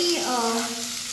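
Vegetables being lightly sautéed in a pan, a steady close sizzle with a faint tonal hum running through it and a short clatter near the end.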